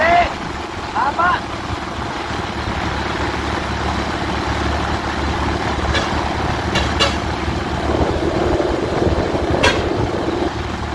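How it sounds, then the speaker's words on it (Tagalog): Heavy road traffic in a long jam along a town road in Camarines Sur, with idling truck engines rumbling close and continuous, a few short horn toots near the start and sharp squeals, while people talk over it. "Yung traffic sa mga katambay dito"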